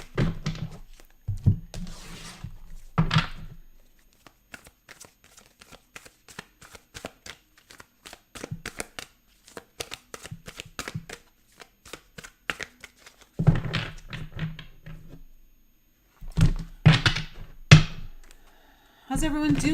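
Tarot cards are cut and shuffled in quick papery riffles and soft taps, arriving in short bursts between stretches of a person talking.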